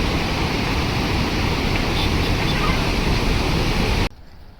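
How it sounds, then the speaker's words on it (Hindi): The Mandakini river runs high and swollen after heavy overnight rain, a loud continuous broadband roar of rushing floodwater close by, steady throughout before cutting off abruptly near the end. "ये सामने पे बह रही है मंदाकिनी नदी"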